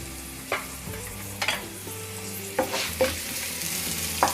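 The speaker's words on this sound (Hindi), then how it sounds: "प्याज को हमें हल्का गोल्डन ब्राउन होने तक फ्राई करना है" Onions sizzle steadily in a pan for restaurant-style matar makhana sabzi, a soft continuous frying hiss broken by a few sharp scrapes and clicks of a stirring spoon.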